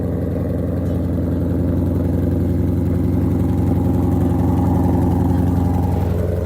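A Ford car engine idling steadily with a low, even rumble, loud and close, holding a constant throb with no revving or voices.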